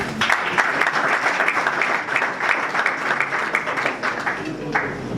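An audience at a political party meeting applauds steadily, dense sustained clapping from a large crowd filling the room without letup.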